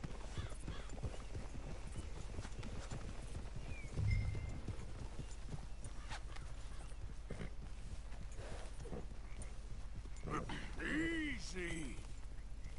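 Horse hooves clip-clopping steadily at a walk in Red Dead Redemption 2, a rhythmic run of close, distinct hoofbeats with a brief snort or whinny and soft game voices in the background.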